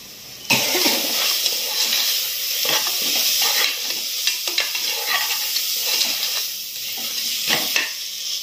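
Mutton lungs fry with chili powder, salt and green chili in a hot pan, a bright continuous sizzle broken by repeated scrapes and taps of a stirring spoon, with a cough heard partway through.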